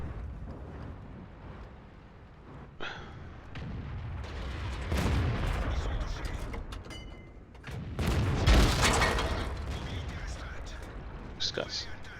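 Tank cannon firing high-explosive shells in a tank battle game, heavy booms and blasts with rumbling tails recurring through the stretch amid other battle noise, a voice talking over parts.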